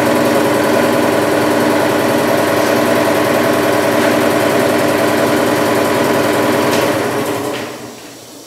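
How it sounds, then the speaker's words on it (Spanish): An old stationary engine with a large flywheel, around 60 to 70 years old, running close by with a loud, steady rhythmic thumping chug that holds even for several seconds before winding down. "Este es un volante, un motor estacionario."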